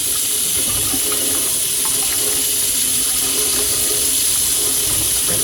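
Water runs steadily from a kitchen faucet after a sprayer leak is fixed with Teflon tape, a loud continuous rushing stream into the sink with no break.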